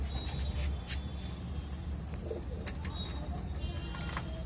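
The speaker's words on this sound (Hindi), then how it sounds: "ये खूब उड़ने वाले कबूतर हैं ये" Saharanpuri high-flyer pigeons coo softly and repeatedly at close range, with faint background hum and no talking.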